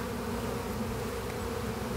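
Honeybees from a two-to-three-pound package with a queen drone steadily inside a brand new hive of freshly built boxes, a dense, even buzz holding close and constant throughout.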